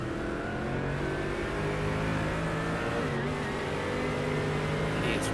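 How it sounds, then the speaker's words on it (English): Mercedes GT3 V8 engine in the iRacing sim racing game at Bathurst, a loud, low, steady hum with sustained harmonics and shifting pitch as it revs, filling the whole clip without talk. "Listen to the sound of that Mercedes."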